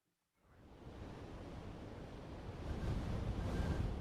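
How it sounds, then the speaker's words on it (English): Steady wind rushes and roars across the microphone, building louder toward the end with no other sounds. "It's windy and it's really cloudy today"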